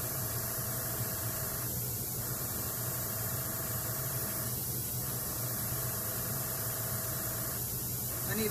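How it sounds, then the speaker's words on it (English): Airbrush spraying alcohol ink for a flower petal gives a steady, close hiss over a low mains hum, broken by brief pauses near two, five and seven and a half seconds. "so I moved my airbrush a little in the opposite direction to guide the petal where I want it to go"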